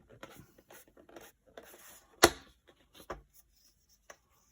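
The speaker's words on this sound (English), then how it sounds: "If you've got a sharp knife, it might only take a couple, but once we've got a decent scribed line, we can fold it." A sharp knife scores a line into material for folding, a few light scratchy strokes punctuated by one sharper snap-like scrape, close and quiet with pauses between.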